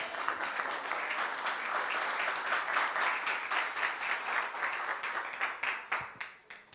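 A church congregation at a Sunday worship service claps together in a sustained, dense round of applause that stays steady, then thins into scattered claps before fading out.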